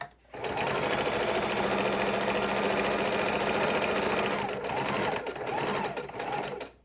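A sewing machine runs fast and steady, close up, stitching back and forth across the bottom of a fidget quilt, with a brief slowdown and restart near the end.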